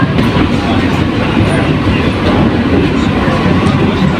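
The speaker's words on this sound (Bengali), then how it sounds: "শিয়ালদা ঢুকে গেছে প্রায় ট্রেন প্ল্যাটফর্মে, এখন সবাই নামার ওয়েট করছে।" An AC local train on the Sealdah–Ranaghat line pulls into a Sealdah station platform, giving a loud, steady rolling rumble with faint wheel clatter throughout.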